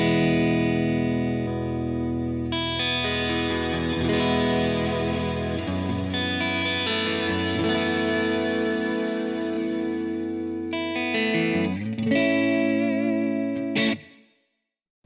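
Electric guitar played through a Fractal FM3 preset with plex delay and reverb, sustained chords and swelling notes with shimmering repeats and a long wash, changing chords every few seconds before a final strum rings out and cuts to silence.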